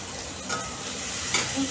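Green chillies hitting hot oil in a pan while cooking a raw banana and potato curry, giving a steady close sizzle with a couple of sharper crackles and faint stirring, no voices.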